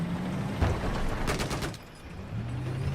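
A tank gunner's machine gun fires in Battlefield 4: a short burst, then a louder rapid string of shots that cuts off, over a steady low vehicle rumble with no talking.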